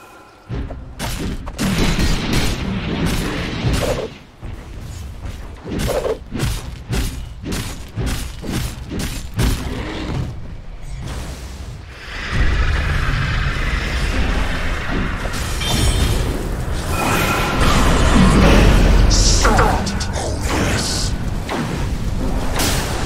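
A tower comes under attack in a pro Dota 2 match featuring Troll Warlord: a rapid run of sharp impact hits and thuds, then a denser rumble of explosions and clashing effects, with voices speaking over the action.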